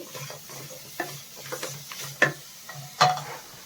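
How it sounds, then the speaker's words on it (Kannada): Jaggery is stirred into fried grated carrot in a pan, a close, rhythmic scraping and clacking of a spoon over a low sizzle, with several sharper knocks. "ಈಗ ನಾವು ಬೆಲ್ಲ ತಗೊಂಡಿದ್ವಿ ಅಲ್ವಾ ಬೆಲ್ಲನ ಹಾಕೊಳ್ತಾ ಇದ್ದೀನಿ"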